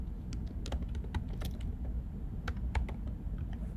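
Someone types on a computer keyboard while naming a folder during an animation project, giving scattered, fairly faint key clicks over a steady low background hum.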